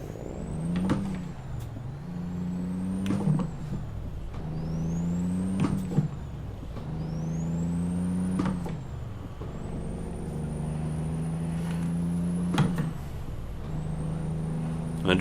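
A Kenworth truck in American Truck Simulator drag races, its engine climbing in pitch and dropping back at each gear change in a repeating cycle of about five shifts, loud and close with no talk.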